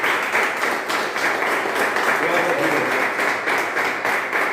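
A church congregation at an evening service bursts into sustained applause for Jesus, a thick, continuous clapping that fills the room while voices call out and speak over it.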